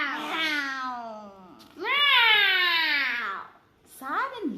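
A person's voice imitates a cat meowing, with two drawn-out, wavering meows and a short third one, close and loud with no other sound.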